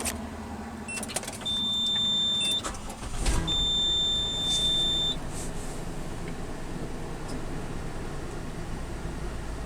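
Electronic beeps and a whirring motor as hand-control driving equipment powers up inside a parked car, over steady engine or cabin noise.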